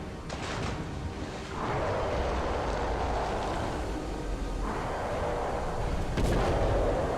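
Gunfire in the horror video game Call of Cthulhu: Dark Corners of the Earth, with two heavy booming shots that swell and roll out over a dense, rumbling game soundscape.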